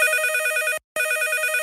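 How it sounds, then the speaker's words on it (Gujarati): A telephone rings loudly in a radio studio during a comedy show: two long, close bursts of bright trilling ringing separated by a short silent gap. "ફોન આવ્યો."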